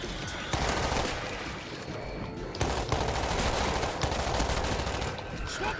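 Gunfire in a zombie shooter video game, loud rapid bursts of automatic shots crackling almost without pause across several seconds, dense and close.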